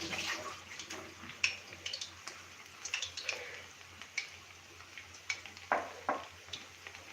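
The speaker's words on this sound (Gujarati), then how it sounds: "હું હવે 1 મિનિટ હાથ ધોઈ લઉં." Hands are washed under running water in a home kitchen while medu vada are being made, a quiet trickle with soft, irregular splashes and drips close by, with no voices.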